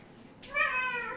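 A cat gives one clear, rising and falling meow close by in a quiet room, asking to be let outside.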